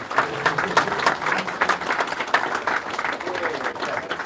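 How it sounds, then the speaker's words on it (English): Steady applause from a crowd, dense clapping that carries evenly throughout at moderate loudness. "Can we give him a round of applause?"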